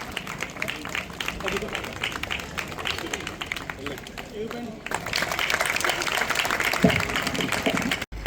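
Applause from a crowd gathered at a grand Dr. Babasaheb Ambedkar Jayanti celebration in Kalwada, Valsad, steady clapping that swells louder in the second half, mixed with background crowd noise and voices.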